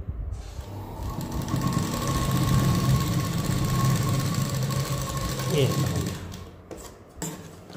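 Up close, a sewing machine stitches a prince cut blouse at the sleeve joint, a continuous rattling hum lasting several seconds before it slows and stops, followed by brief handling clicks.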